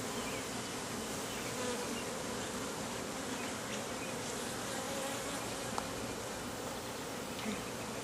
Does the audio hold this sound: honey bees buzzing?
yes